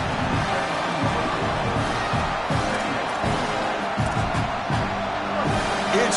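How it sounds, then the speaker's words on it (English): A big football stadium crowd roars with a dense, sustained wash of cheering and shouting, loud and continuous, with an announcer's voice faintly talking over it. "this crowd is fired up. Listen to this noise here"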